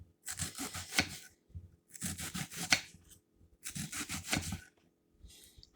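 A knife chops and dices through a lasagna ingredient on a board in a home kitchen, three bursts of quick rubbing, scraping strokes separated by short pauses, close and clear with no talk.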